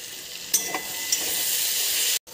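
Slit green chillies frying in hot oil in a pan, a steady bright sizzle with a few brief clatters of stirring, then a sudden short drop to near silence at the end.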